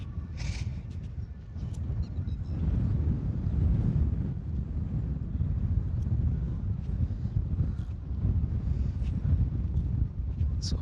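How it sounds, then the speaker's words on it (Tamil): Strong wind gusts across an open garden field with crops and moist soil, a steady low roar buffeting the microphone throughout, rising and falling in surges with no voices. "பயங்கர காற்று வீசிட்டு இருக்குங்க."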